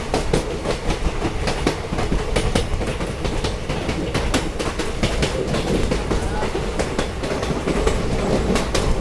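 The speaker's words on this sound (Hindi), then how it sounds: "ICF ट्रेन का ट्रैक साउंड भी एकदम अलग ही है।" An Indian Railways ICF coach rolling along the track on the Tinsukia–Bangalore Express, with steady rumble and repeated clickety-clack of wheels over rail joints, loud and close, continuous throughout.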